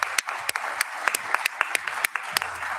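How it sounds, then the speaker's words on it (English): Audience applause for a presenter at an AI, security and ethics conference, a steady wash of clapping with a few sharp individual claps standing out, fairly close and with no talk over it. "Please join me in a round of applause to thanks Mike for the presentation"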